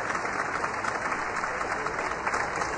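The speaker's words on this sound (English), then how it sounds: "Fans here in Abu Dhabi applauding as he gets back to his feet" Basketball fans in an Abu Dhabi arena applaud steadily for a youth tournament game, a dense wash of clapping that holds at an even level throughout.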